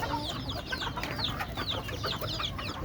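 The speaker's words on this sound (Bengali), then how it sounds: "এই যে আমার মুরগি সবগুলা দেখেন" Laying hens on a poultry farm cluck repeatedly in short, close calls, several birds overlapping in a busy, moderately quiet chorus with no talking.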